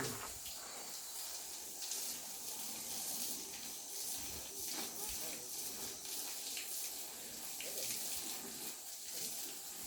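Water poured steadily onto a stone dust fill during renovation of a Japanese house before heating pipe work, producing a continuous broad gushing wash that holds a fairly even level throughout.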